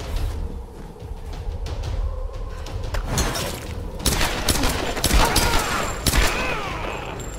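Rapid bursts of gunfire from the Tomb Raider video game, with dense overlapping shots and booming impacts growing louder toward the end, set over a steady rumbling game backdrop.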